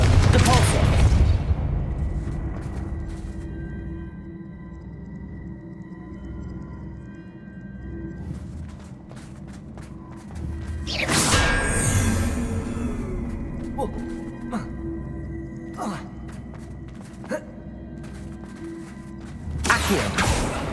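Confringo and Depulsor spells fire in combat in Hogwarts Legacy, producing booming blasts and crackling bursts, with a large explosive surge midway and another at the end over a low rumbling background.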